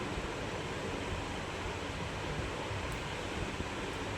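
A bay leaf and a dried red chilli sizzle in hot oil left from frying prawns, stirred in a pan while cooking elephant-foot yam stalks, giving a steady, dense hiss with no breaks.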